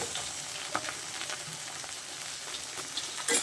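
Prawns and green chilies sizzle and fry steadily in a pan, a continuous close crackle with occasional stirring scrapes and pops, no voices.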